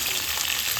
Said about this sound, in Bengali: লবণ আর হলুদ মাখিয়ে ভাজছি শুধু